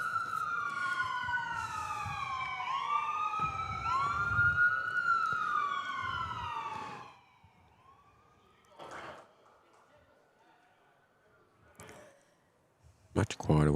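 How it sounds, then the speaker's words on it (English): Emergency vehicle sirens wail near a lawn bowls club, several overlapping rising and falling tones that fade as they pass, leaving quieter background with a few brief knocks and voices. "Much quieter once the sirens get past the Bowls Club"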